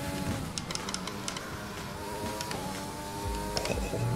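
Race car engine from the F1 2020 video game at Silverstone, a steady whine rising as it accelerates, with sharp higher-pitched bursts and a deeper surge near the end, continuous with no talk.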